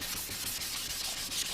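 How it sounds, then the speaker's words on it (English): Close, continuous hand sanding of motorcycle fairing parts on a Ninja restoration, a steady rhythmic rasp of abrasive strokes rubbing back and forth with no voices. "This was a long day of sanding here."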